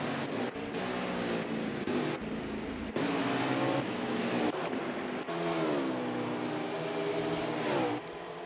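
Race cars at Watkins Glen roar past one after another in a stock car race, loud engines rising and falling with shifting pitch, broken by brief gaps between cars.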